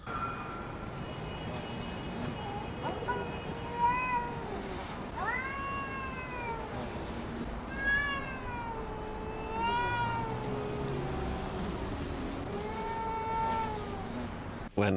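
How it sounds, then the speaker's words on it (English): A cat screams and yowls in an alley during the Dirty Ice heist of the video game PAYDAY 3, with several rising and falling caterwauls repeated over a faint, steady background rumble. "there is a cat that is like screaming"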